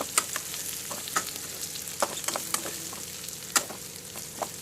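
Prawn curry for royyala iguru sizzles steadily in a pan, a continuous close hiss broken by sharp crackles and pops as the pan is stirred, with no talking.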